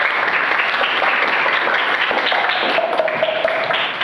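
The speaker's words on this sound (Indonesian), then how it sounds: "Tepuk tangan untuk Mbak Maya." Classroom applause from students at an Islamic-school teaching session, a dense, steady patter of many hands clapping close by for the full stretch, with no talk over it.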